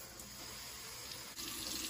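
Tap water pours briefly into the tank of a water flosser, a quiet, steady splashing trickle that shifts in tone as it fills.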